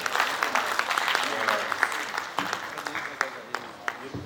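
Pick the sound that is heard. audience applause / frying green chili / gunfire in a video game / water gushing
audience applause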